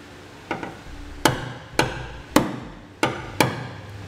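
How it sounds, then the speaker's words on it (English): A hammer strikes a center punch against the metal bed of a 2017 Chevrolet pickup to mark a drilling spot: about six sharp, ringing metallic taps at a steady pace, close and clear with no talking. "I'm going to come back with a center punch."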